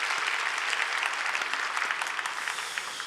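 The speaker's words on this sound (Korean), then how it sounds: "다시 한번 박수 한번 쳤겠어요." Church congregation at a Korean worship service applauds together, a steady, moderately distant patter of many hands clapping that fades slightly toward the end, no voices heard.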